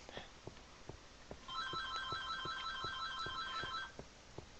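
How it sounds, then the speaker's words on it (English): A phone rings at home, a repeating warbling electronic trill that starts about a second and a half in and runs for over two seconds, moderately loud above faint room noise and soft periodic taps. "And that is a phone ringing."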